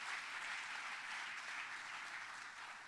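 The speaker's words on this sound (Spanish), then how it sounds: "fuerte el aplauso para Cristo" Congregation in a church applauding, a dense, steady wash of many hands clapping together, sustained and even throughout, heard somewhat distant and alone without talk.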